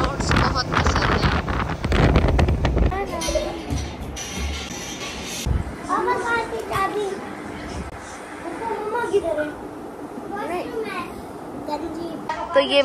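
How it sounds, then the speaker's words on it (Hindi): Strong wind buffets the microphone in loud roaring gusts, heaviest at first, while voices, including a child's, talk throughout. "तेज़ हवा चल रही है"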